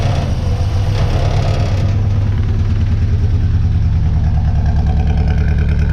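A 1966 Austin Healey Sprite engine with a performance exhaust runs on its own fuel pump, a steady close low throbbing idle after a brief blip of revs at the start, with no talk.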